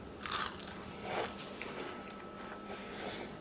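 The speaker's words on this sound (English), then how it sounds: "And I'll even chew some for you." Crunchy dried shredded beef bitten and chewed close up, with a few quiet, crisp crunches spaced apart against a soft background.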